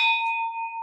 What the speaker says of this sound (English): And I do have the gong. I'll try not to do it so loud, so you might want to prepare your ears